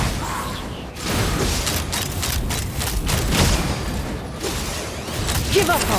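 A volley of gunfire erupts in the Genshin Impact game, a dense run of overlapping shots and thuds carrying steadily over about six seconds with scattered impacts.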